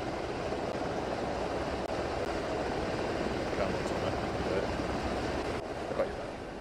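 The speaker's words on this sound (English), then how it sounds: "straight into the helicopter" Steady drone of a helicopter in the military video game ArmA 3, a continuous rotor and engine rumble filling the scene at constant loudness without a break.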